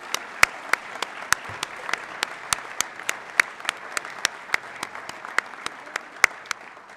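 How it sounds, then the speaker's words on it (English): A small school audience at an academy assembly breaks into applause, a run of crisp, separate handclaps from a modest group at moderate distance, steady and fairly sparse with no cheering. "Can we give them a round of applause?"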